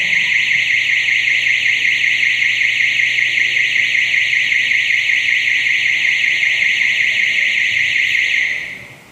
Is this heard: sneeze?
no